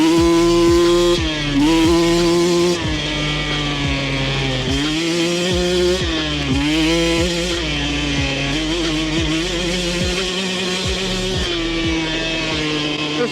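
Two dirt bikes, a Thunderwasp and a Honda XR16, accelerate hard side by side in a roll race, engines buzzing loudly with rising pitch and repeated shifts, close and continuous with no talking.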